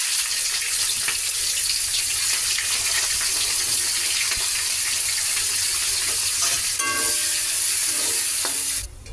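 Onions dropped into hot oil with cinnamon, cardamom, cloves and bay leaves, giving a loud continuous sizzle with clinking and stirring scrapes, close up and alone.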